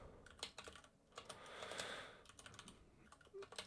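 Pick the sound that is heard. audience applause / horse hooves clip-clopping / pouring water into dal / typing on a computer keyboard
typing on a computer keyboard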